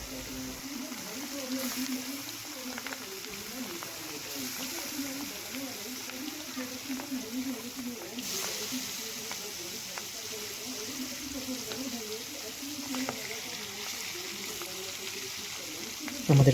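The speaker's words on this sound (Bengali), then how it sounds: "মাছগুলো ভাজা হোক।" Fish rubbed with salt and turmeric frying in hot oil for a Bengali vegetable fish curry, a steady, continuous sizzle and crackle that holds evenly from start to finish.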